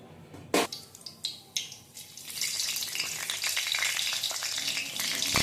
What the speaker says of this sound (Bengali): গোটা গরম মশলাটা দিয়ে দিলাম।